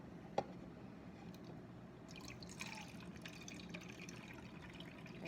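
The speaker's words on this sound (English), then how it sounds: "now I'm going to take a half a cup of my hydrogen peroxide. So I'm going to measure that out." Half a cup of hydrogen peroxide is poured into a measuring cup in a quiet indoor setting, heard as a faint, soft trickle and splash of liquid after a single small click, with no talking.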